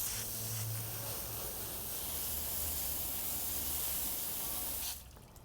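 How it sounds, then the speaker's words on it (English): A strong, steady hiss of water spraying from a hose nozzle onto the face of a car wheel runs for several seconds, then cuts off abruptly. "I'm going to spray down the actual face of the wheel."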